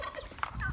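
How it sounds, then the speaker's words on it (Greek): Turkey hens and a tom turkey kept for breeding give short clucks and gobbling calls, close by against a low rumbling background. "εδώ είναι ο γάλος που ήθελα δεν ήθελα έβαλα για να παραγωγή"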